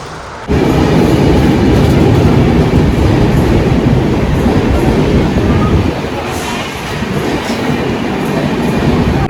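Loud, continuous rumble of a moving train heard from inside a carriage, with rattling wheels and carriage noise steady throughout, easing slightly midway.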